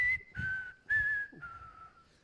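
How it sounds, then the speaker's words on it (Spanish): A person whistles a tune alone, sustained clear tones in short phrases with brief gaps between them, close and fairly quiet. "Yo también sé silbar, mira."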